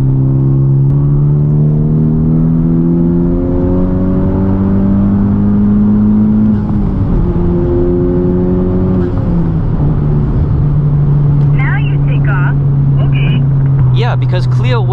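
A Honda Civic Type R in sport mode accelerates from inside the cabin, its engine droning at a steady, rising pitch for the full stretch, with a brief shift midway and a voice talking over it.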